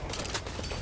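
Rapid gunfire in the Fortnite battle royale game, a dense, continuous burst of shots held at steady loudness with no pauses.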